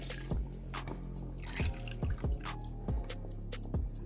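Water from glasses splashes into a pot of rice for pulao in short, repeated spurts, each a quick liquid gush over a steady low hum.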